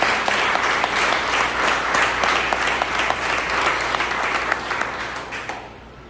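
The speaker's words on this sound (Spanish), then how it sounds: "Denle un fuerte aplauso al Señor." Church congregation applauding loudly and steadily, a dense wash of many hands clapping that holds for about six seconds before tapering off at the end.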